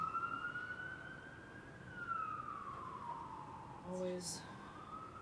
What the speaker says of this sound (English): I'm hearing the siren, hoping he was turning the other way.